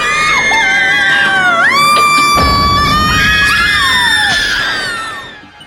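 A woman lets out a long, loud, wavering scream that rises and falls in pitch, sustained for several seconds before trailing off.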